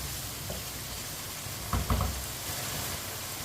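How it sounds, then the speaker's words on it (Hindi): Cauliflower for aloo gobhi cooks in a pan over medium heat, giving a steady low sizzle with a brief cluster of stirring knocks near the middle and no talking. "मीडियम आंच पर 2 मिनट के लिए पका लेते हैं।"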